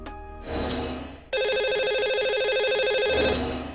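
A telephone rings during a radio show as the host places a call to a contest caller, giving two loud electronic ring bursts with a brief pause between them and a sustained warbling tone, with no talk over it.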